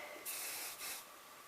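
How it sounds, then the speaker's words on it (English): Hairspray is sprayed onto hair while fixing a messy bun, as two short hissing bursts from the can, the first longer, the second brief, both fairly faint and close. "Here, I have some hairspray right here."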